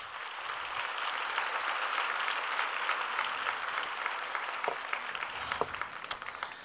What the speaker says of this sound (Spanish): Si ese es el Dios tuyo, dale un aplauso al omnipotente Dios.